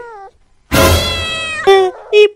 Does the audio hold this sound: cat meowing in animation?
yes